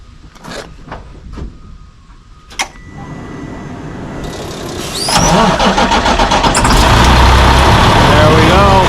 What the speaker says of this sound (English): all right, start the truck again